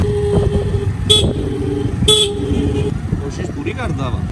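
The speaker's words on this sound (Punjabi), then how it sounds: "ਪ੍ਰੈਸ਼ਰ ਹਾਰਨ ਸੁਣਿਆ ਹੋਣਾ, ਲਵਾਇਆ ਹਾਈਪਰ ਪ੍ਰੈਸ਼ਰ ਹਾਰਨ" A hyper pressure horn blasts twice in short, sharp, loud bursts about a second apart, over a background of nearby road traffic and ongoing conversation.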